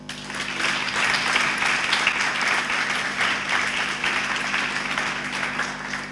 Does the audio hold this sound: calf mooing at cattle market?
no